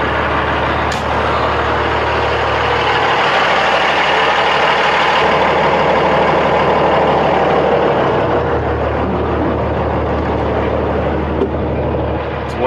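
A truck engine idles at high revs, a steady loud broadband rumble with a low drone that runs unbroken throughout, with no voices.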